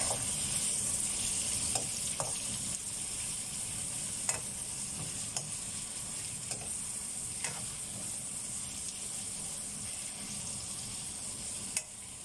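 Garlic, onion and ginger sautéing in a pan for a Filipino bitter beef stew, a steady close sizzle with faint scattered clicks of stirring, no talking.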